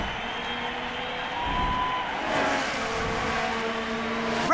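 Formula 1 cars race in a McLaren career-mode racing game, engines droning steadily with pitch sweeps as cars pass and shift, a faint rising whine at the end.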